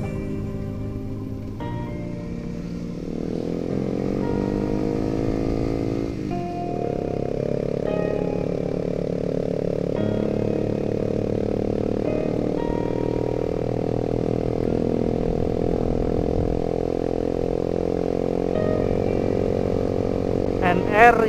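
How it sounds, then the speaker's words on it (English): Motorcycle ridden along a dark, quiet road at night, its engine droning steadily up close with rising and falling revs, and wind and rattles over it. "di depan ada motor"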